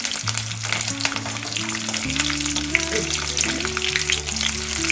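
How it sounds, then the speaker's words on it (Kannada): Green chilies frying in oil in a pan, a constant dense crackling sizzle close by, with a low steady hum and drifting tones underneath; no voices. "ಹಸಿಮೆಣಸು ಇದರಲ್ಲಿ ಫ್ರೈ ಮಾಡಿದರೆ"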